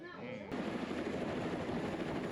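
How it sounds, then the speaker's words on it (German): After a brief quieter moment, a helicopter returning at the end of a desert rally day cuts in with steady rotor chop, a pulsing, fairly close drone filling the rest. "Der Rallyetag geht dem Ende zu und der Helikopter kommt zurück."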